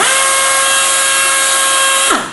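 A Torc-Up Raptor pneumatic torque wrench's air motor running in reverse at about 30 psi, a loud steady high whine with a sharp hiss that winds down at the end.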